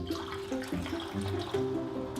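Alkaline ionized pH 9.5 water from a Kangen machine poured into several containers, a close trickling and gurgling stream with small surges as each container fills, no speech.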